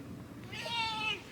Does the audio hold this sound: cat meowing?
yes